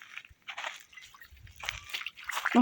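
Someone wades through garden pond water, producing irregular sloshing, splashing and dripping sounds at close range, with no talking.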